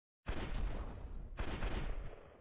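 A railgun fires in a video game, two loud sustained blasts with harsh noisy bursts, the second starting about a second after the first, with no talking.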